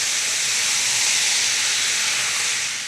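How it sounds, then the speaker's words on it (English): Red wine hits a hot pan holding parsley stalks and deglazes it with a loud, steady hiss of steam that runs throughout and eases off slightly at the end. "then some red wine. And this is going to deglaze that pan"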